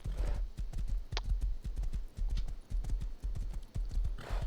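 Horse hooves clip-clopping at a steady walking rhythm in the Rust video game, close and fairly loud, with a brief higher tone partway through.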